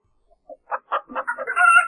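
A chicken clucks in a quick series of short, close bursts that build into a longer, higher drawn-out call, with quiet surroundings otherwise.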